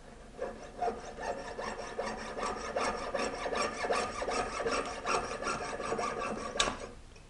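Hand saw cutting through metal tubing held in a Pepe tube cutter guide, a steady run of close, rasping back-and-forth strokes for several seconds ending in a sharper final stroke, no talking.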